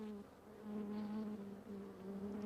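Honeybees buzz softly in a steady, faint drone with a few wavering pitch shifts, heard alone without talk.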